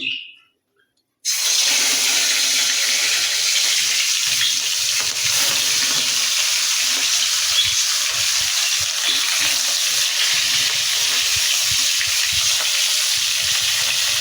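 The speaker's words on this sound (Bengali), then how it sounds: "আমার তেল দেখো গরম হয়ে গেছে তো চলো মাছগুলো ছেড়ে নিই" Three fish go into hot oil after a moment of silence, and a loud, dense sizzle starts all at once and holds steady and close for the rest of the clip.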